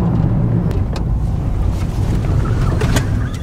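A Ford Freestyle petrol car driving over a tiled road, with a steady low engine and road rumble heard from inside the cabin, continuous and fairly loud.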